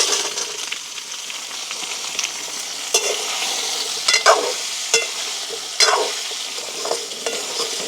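Raw mango pieces fry in a small amount of oil with a steady, bright sizzle, broken by several sharp scraping stirs of a spoon against the pan; no one speaks.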